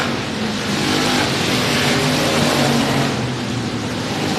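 Stock cars race at Sabine Speedway, a loud continuous roar of engines at full throttle, smooth and steady throughout with no pauses.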